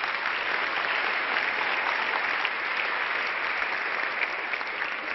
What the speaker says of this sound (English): A big applause for the finalists.